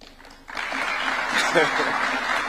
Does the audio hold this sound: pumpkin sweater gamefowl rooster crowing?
no